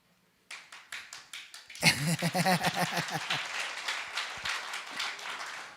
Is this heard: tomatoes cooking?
no